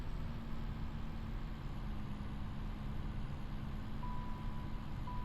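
A farm truck's warning beeper chimes steadily over a low idling engine rumble, repetitive and fairly faint, with no talk.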